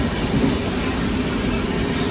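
Indian Railways 16316 Mysore Express rumbles along, heard from inside the moving train as a loud, steady roar of wheels on track.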